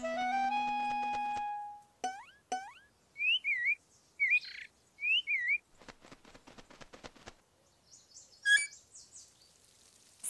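Cartoon birds at a garden bird bath chirp and tweet in short bright bursts and quick warbling phrases, preceded by a long steady whistle-like tone, all clear and close with gaps of silence between calls.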